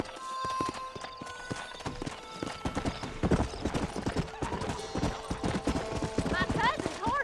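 Rapid hoofbeats clatter in a quick galloping rhythm, several horses racing close by in the video game Red Dead Redemption, with a whinny near the end.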